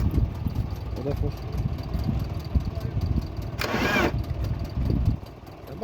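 Starter whirring on a BMW E34 that keeps turning over but won't fire, a steady rough churn up close with a short sharp burst near the end and voices in the background.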